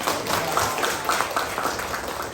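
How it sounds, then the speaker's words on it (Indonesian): A classroom of students claps together in brief rhythmic bursts. The applause is moderately loud and close, with a lively pattering pulse for a couple of seconds. "tepuk tangan untuk kita"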